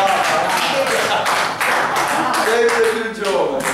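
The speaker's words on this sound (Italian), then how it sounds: "È ufficiale, c'è un applauso alla giovane vera." A live comedy audience at an art gallery in Livorno claps in a dense burst, with voices and laughter mixing into the clapping at close range.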